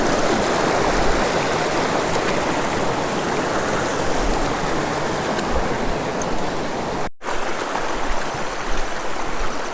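A fast river in Jammu rushes past up close, a loud, continuous roar of churning water that fills the whole stretch, broken only by a brief dropout.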